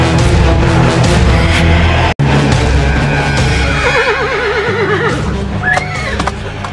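A horse whinnies loudly with wavering, descending neighs over a busy background of hoof clatter and rumble.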